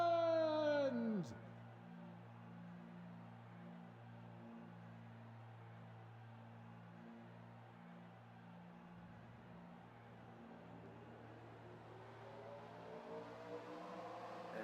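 Race car engines in a NASCAR-style racing video game at Las Vegas fire up together, with a rising whine at the start giving way to a layered, steady idling drone that swells again toward the end.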